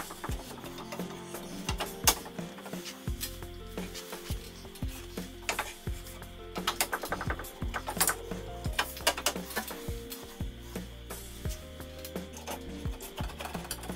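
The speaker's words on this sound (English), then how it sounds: "Put in the short stubby screws in the center." Short stubby screws are driven into the center of the headlight buckets on a car being fitted with LED projector headlights, heard as close, irregular clicks, scrapes and ratcheting taps in a quiet workspace.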